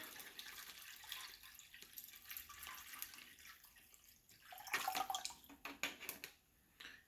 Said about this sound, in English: I'm going to pour my water in here.